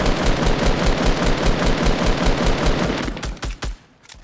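A minigun in Fortnite Battle Royale fires a loud, rapid, continuous stream of shots at trees, the sustained burst breaking into a few short stuttered bursts before stopping.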